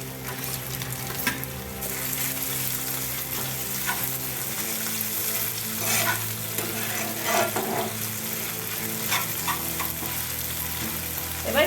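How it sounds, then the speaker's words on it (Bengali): Deboned fish sizzles with browned onions in a hot pan, a steady, close frying hiss with stirring scrapes running throughout the whole stretch, no voices. "এবার আমি কাটা ছাড়ানো মাছগুলো দিয়ে দিচ্ছি"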